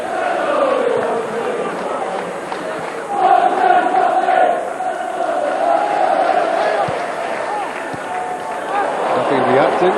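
Football stadium crowd at a UEFA Cup match between Dundee and Perugia, a steady loud roar of many voices rising into sustained chanting of a player's name, with a commentator talking over it.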